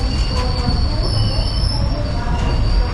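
The Kayamkulam–Ernakulam unreserved express shuttle train runs along the track, loud steady rumble of wheels with high squealing from the rails close by.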